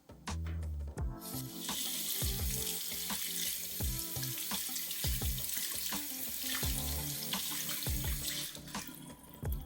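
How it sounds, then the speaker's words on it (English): A shaving brush is soaked under a running tap, with steady, close splashing and gurgling water for the whole stretch and occasional knocks and shifts as the brush moves in the stream. "I'm just gonna soak the brush under the water today"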